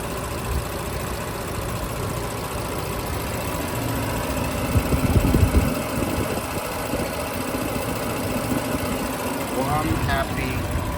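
A 2018 Audi S4 Premium Plus with a 3.0-litre V6 idles steadily at close range, a constant low hum that holds even and unbroken from start to finish.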